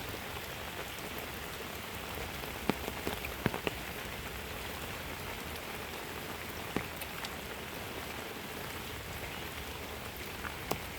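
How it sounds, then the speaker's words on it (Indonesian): Heavy rain pours over countryside in the late afternoon, a dense steady hiss close by with occasional louder drips and splashes standing out. "Deras banget sahabat, hujannya sahabat."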